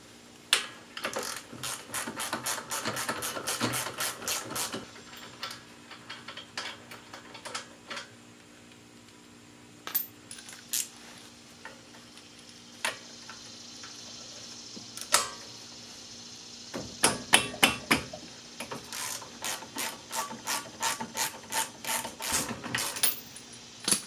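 A 19mm ratchet wrench removing the two large brake caliper bolts on an R32 Nissan Skyline: rapid, close metallic ratcheting clicks in several runs, separated by pauses with occasional single clicks.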